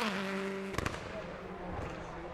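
Subaru WRX exhaust crackling with a couple of sharp, loud gunshot-like pops over a steady engine drone, followed by fainter pops.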